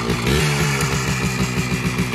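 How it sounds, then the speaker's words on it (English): A Harley Davidson 175 dirt bike engine with the exhaust baffle removed runs close by, a loud, steady buzzing drone with a throaty, pulsing exhaust note. "Fire up this 175 and that has the baffle removed from the exhaust,"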